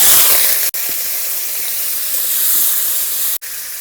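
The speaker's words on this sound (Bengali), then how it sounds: "লাল লাল করে ভেজে নেব।" Two potatoes, cut in pieces, frying in hot mustard oil in a kadai, a loud steady hiss of sizzling oil that runs continuously with two brief breaks, no voices.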